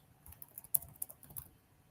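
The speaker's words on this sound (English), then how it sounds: "then you type in your OS" Soft, quick clatter of keys on a computer keyboard, a brief burst of irregular taps over under two seconds, faint and close with no talking.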